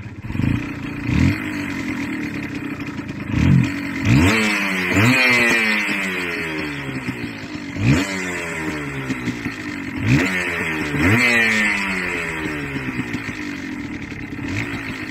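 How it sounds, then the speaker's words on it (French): A motorcycle that had sat unused for about a week and a half cranks on the starter and catches, then revs in repeated rising bursts, loud and close, with clattery idle between throttle blips and no talking. "J'ai mis un coup de démarreur."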